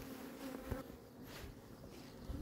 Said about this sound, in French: donc les abeilles. Il y en a forcément quelques-unes.